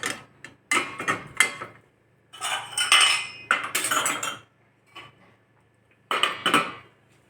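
Metal spoons and tumblers clink and clatter in a series of close, bright rattling bursts as they are set into a dishwasher rack, with short pauses between.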